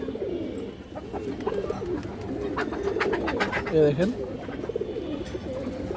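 Soft, repeated cooing from a lively female Kaldom high-flyer pigeon close by, with other birds murmuring around and someone speaking over it.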